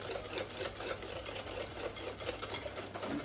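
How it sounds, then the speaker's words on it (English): A whisk beating a warm milk and cream custard for creme brulee in a pan, a steady fast rhythmic swishing and light clicking that runs continuously, close and moderately quiet, with no voice. "And keep whisking this"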